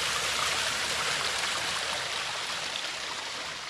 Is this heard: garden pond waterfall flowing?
yes